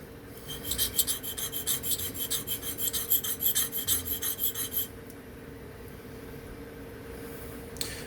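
Remington Barlow pocketknife blade being flattened on a diamond sharpening plate, a rapid run of about a dozen rhythmic rasping strokes, close and crisp, before the scraping stops and only quiet room hum remains.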